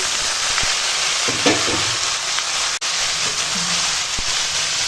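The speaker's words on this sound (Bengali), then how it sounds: "ফোড়নটা ভাজা হয়ে গেছে এবার লাউটা দিয়ে দিলাম" Bottle gourd added to hot oil with panch phoron, dried red chilli, bay leaf and ginger, frying in a Bengali kitchen; a steady close sizzle with a brief louder burst as the vegetable goes in, no talk.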